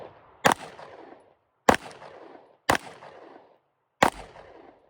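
Four sharp gunshots ring out about a second apart while a rifle fitted with an Ohhunt RD-U3 red dot sight is zeroed outdoors, each crack loud and close with a short echo trailing off into silence.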